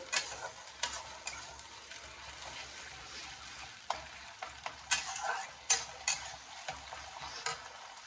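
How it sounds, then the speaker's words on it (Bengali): Banana stem paste with black cumin is stirred in hot oil in a pan. It gives soft continuous sizzling, with intermittent scraping clicks from the spoon against the pan, close and moderately loud. "দেখো এইভাবে দিয়ে এটাকে আমি ভালো করে তেলে নাড়াচাড়া করব।"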